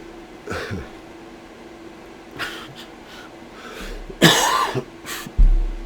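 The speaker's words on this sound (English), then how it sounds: "I'm gonna have a coughing fit." Several harsh coughs and throat-clearing bursts come in a ragged series, close and loud, separated by short breathy pauses.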